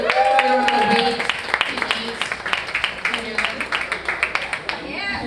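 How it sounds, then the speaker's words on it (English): Wedding guests applauding, a crowd of hands clapping in steady rapid patter that continues after a brief voice at the start. "applause for them."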